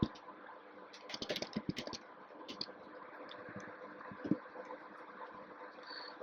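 Quiet typing on a computer keyboard, a short cluster of quick key clicks followed by a few scattered taps against a faint steady background hum.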